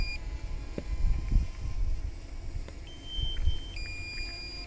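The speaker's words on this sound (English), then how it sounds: "I'll bring it in and change the battery because you don't want to be listening to that beeping constantly." A hovering drone's controller gives repeated thin electronic low-battery beeps, on and off over a soft low rumble of wind and the outdoor setting, fairly faint with no talk.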